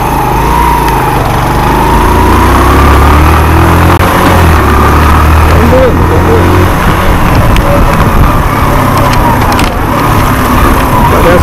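A Suzuki Intruder 125 motorcycle with a clogged carburetor and a misfiring engine runs without the choke pulled, giving a loud, steady, close engine drone that carries on throughout with a slight shift in pitch.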